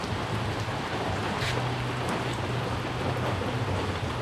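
Steady rain pours down at Tad Yuang waterfall in Champasak, Laos, in a continuous hiss, broadband and even throughout, with a low hum underneath and no voices.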